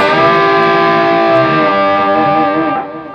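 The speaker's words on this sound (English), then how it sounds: "that's called a double stop bend" An overdriven electric guitar holds a double stop bend, two notes ringing together as one pitch rises, sustaining loudly before fading.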